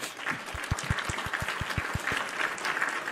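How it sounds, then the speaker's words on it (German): A small group claps for Carsten during a chess strategy lesson, about ten brisk, evenly spaced claps that fade after a couple of seconds into soft room noise. "ich muss mal einen Applaus geben hier"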